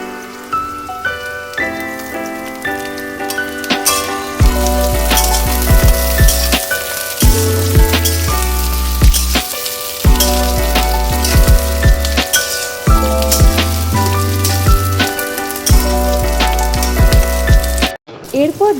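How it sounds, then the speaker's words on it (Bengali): Chopped capsicum fries in a pan for chili chicken, a steady sizzle that stays partly buried under loud rhythmic background music for most of the stretch. "সেম ক্যাপসিকামগুলো এমনভাবে ভাজতে হবে যাতে কালারটা চেঞ্জ না হয়"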